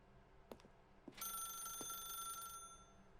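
A telephone ringing in The Stanley Parable video game: a few faint knocks, then a single bright, sustained electronic ring lasting about a second and a half before cutting off, fairly quiet and with no talk.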